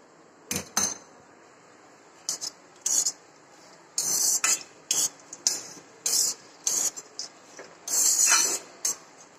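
Dry fruits rattle and scrape in a pan on a low flame, short bursts of rasping stirring in irregular clusters with quiet gaps between them and no voices.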